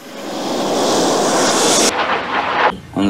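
Airplane engines roar loud and close from inside the cabin, then drop abruptly about two seconds in to a quieter, uneven hum. A brief tonal sound closes the clip.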